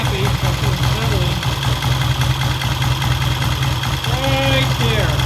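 A 1968 Triumph T100 motorcycle engine idles steadily in a garage, a constant low mechanical drone with faint ticking throughout, while someone talks over it.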